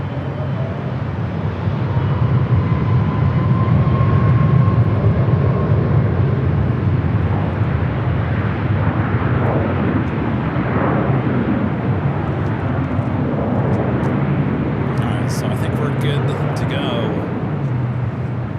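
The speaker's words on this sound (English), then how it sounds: "A350 north side takeoff." An Airbus A350 jet roars steadily on a north-side takeoff at Los Angeles International Airport, a broad sustained engine rumble heard from a distance, with radio chatter over it.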